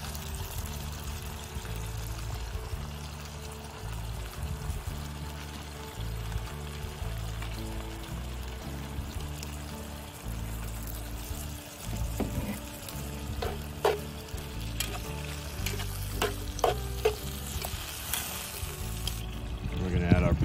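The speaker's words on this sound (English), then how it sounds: "And we'll add our homemade tomato sauce." Homemade tomato sauce pours into a hot pan over an open fire while cooking venison osso buco, a gurgling pour followed by soft sizzling and stirring, close and moderately loud, with some low rumbling background.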